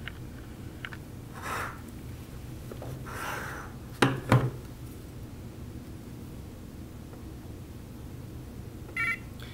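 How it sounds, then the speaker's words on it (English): A BYK-Gardner spectro-guide color instrument gives a short electronic beep, with a second faint tone later, after finishing a calibration measurement on a black standard, heard over steady low background hiss. "A beep will indicate that the measurement has been completed."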